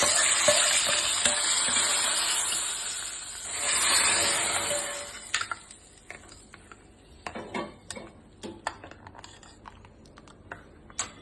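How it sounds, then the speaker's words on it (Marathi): Hot tempering of garlic browned in oil, poured over a Malvani-style horse gram curry: a loud hiss and sizzle for several seconds that fades into scattered clinks and stirring taps of a utensil. "ही फोडणी आता आपण या आमटीवर घालायची"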